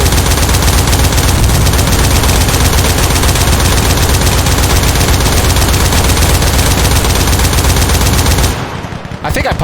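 Rapid, continuous automatic gunfire from a tank combat video game, loud and dense for most of the stretch before cutting off abruptly near the end.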